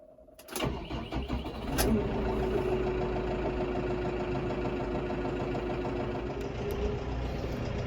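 A tractor fitted with a grapple starts up and settles into a steady, loud, close idle with a constant throbbing hum that continues unbroken to the end.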